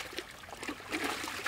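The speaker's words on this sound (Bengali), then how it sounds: "আমরা সুন্দর করে ধুয়ে নেবো মুরগিটা" Water trickling and splashing as raw chicken is rinsed in a kitchen, a faint, uneven dribble that grows slightly busier toward the end, with no talk.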